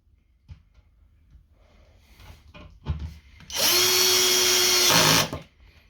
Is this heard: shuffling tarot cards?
no